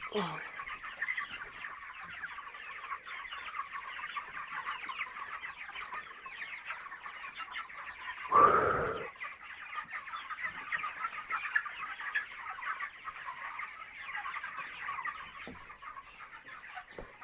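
Chickens cluck and chatter continuously at close range, with one brief loud thump partway through.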